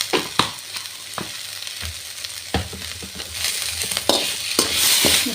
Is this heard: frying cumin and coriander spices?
yes